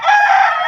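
A rooster crows in a single loud, close, sustained call lasting under a second.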